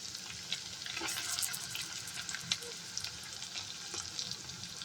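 Eggs fry in a pan with ginger already fried in oil, a continuous close sizzle with soft crackles and occasional stirring taps throughout, no voices.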